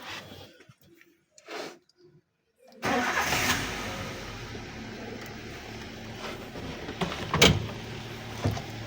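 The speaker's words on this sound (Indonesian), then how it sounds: "Kita nyalakan mesin." A car engine cranks and fires up during routine maintenance work, a sudden jump from near quiet to a steady idle after a few faint clicks, followed by a short rev and some clunks.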